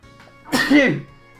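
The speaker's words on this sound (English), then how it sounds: "I think that's the first time I've sneezed in a recording." A single close sneeze, sharp and loud, with a short breath before it in an otherwise quiet room.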